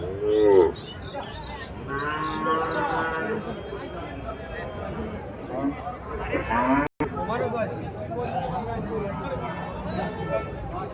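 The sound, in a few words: deshi cow mooing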